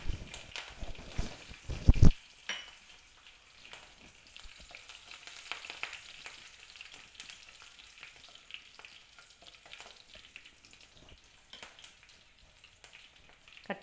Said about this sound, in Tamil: கடுகு நல்லா பொரிஞ்சிடுத்து